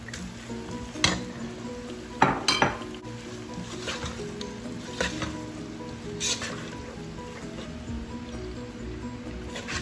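Chicken with okra frying in a pan with garlic, a constant sizzle under repeated clinks and scrapes of a spoon against the pan, a few louder knocks near the start.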